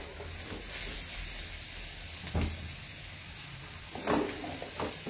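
Chili-salt tofu frying in a pan with a steady hiss of hot oil and a few soft scraping stirs, close up and without voices.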